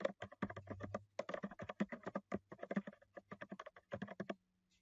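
Fast, steady keystrokes on a computer keyboard as a company name is typed into a spreadsheet cell, close and clear with brief pauses between bursts and no talking.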